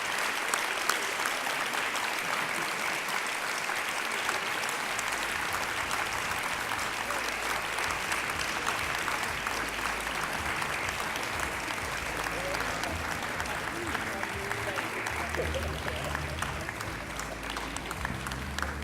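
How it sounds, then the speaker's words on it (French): Sustained applause from an audience closing out the 15th edition of the EEE2018 event, steady dense clapping filling the room throughout with a murmur of voices underneath. "Donc on les applaudit quand même."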